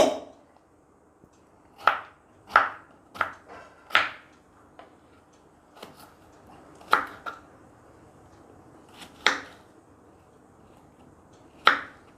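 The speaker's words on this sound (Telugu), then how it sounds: "ఇప్పుడు దీన్ని చిన్న చిన్న ముక్కలుగా చేసేసుకొని ఇలా మిక్సీలో వేసేసుకుందాం." A knife chops ash gourd on a board: about nine sharp, separate strikes at an uneven pace, close up, with quiet pauses between.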